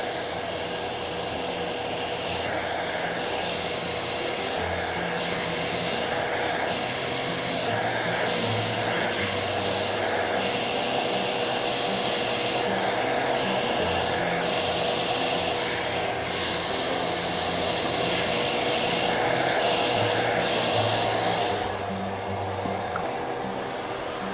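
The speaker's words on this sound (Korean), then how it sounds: "이 모근 쪽 부분에 드라이기로 열을 주시는 겁니다" A hair dryer blows steadily and loudly at the hair roots during styling, its whooshing airflow constant with a slight shift in tone near the end.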